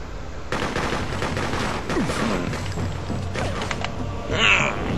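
Gunfire in the video game Freedom Fighters, a steady wash of bursts and rattling shots throughout with a louder swell near the end, with occasional voice underneath.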